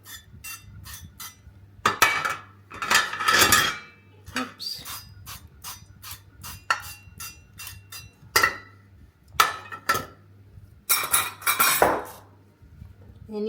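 Metal loaf pans clank, rattle and clink as they are handled, with short bursts of hissing oil spray between the knocks, close up in a home kitchen; a voice speaks briefly.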